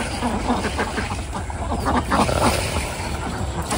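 Domestic ducks quack and honk in a noisy, steady chorus, several birds calling at once under a constant background hiss, moderately close with no clear gaps.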